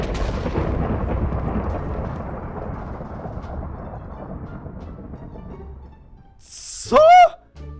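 Minecraft thunder from a lightning strike: a long, loud rolling rumble that slowly fades over several seconds, then a sharp sudden crack near the end.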